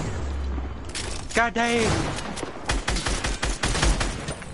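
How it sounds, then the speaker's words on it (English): Fortnite grenades burst in a loud boom followed by a string of quicker crackling blasts, close and punchy, with a man swearing between the explosions. "These goddamn grenades, Luke."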